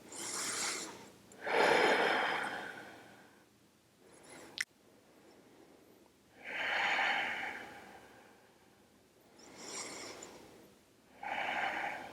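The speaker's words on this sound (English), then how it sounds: "5 long breaths" Deep, slow breaths during a yoga split pose, four long airy exhalations spaced a few seconds apart with a tiny click between, close and quiet with no talking.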